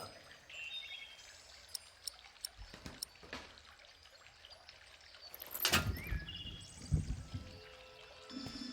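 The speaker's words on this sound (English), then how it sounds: "Now, we need to add some water." Water poured out in a trickling, splashing stream, building to a louder gush midway and continuing in uneven bursts, with faint birdsong and scattered small clicks in the quiet background.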